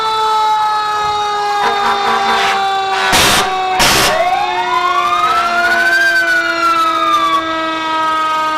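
The Mayville Rescue 252 fire rescue truck wails its siren in a Fourth of July parade, a loud close rising and falling tone with two sharp air-horn blasts partway through.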